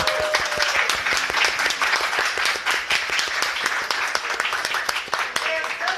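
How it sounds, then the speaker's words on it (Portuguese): A studio audience at a bar talk show in Bardallos claps in a sustained round of applause for an actor, dense overlapping hand claps filling the whole stretch with a steady, lively rhythm. "uma salva de palmas"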